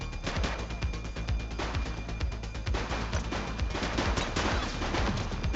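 A suspect opening fire in the 1980s police video game Precinct: rapid, dense automatic gunfire with many sharp cracks overlapping, loud and continuous throughout, no speech.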